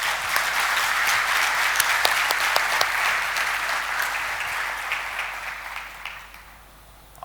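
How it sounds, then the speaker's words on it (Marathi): Sustained audience applause from a leadership session gathering in Nashik, a dense wash of clapping that holds steady and then thins and fades toward the end. "सगळ्यांसाठी एकदा टाळ्या होऊन जाऊ द्या."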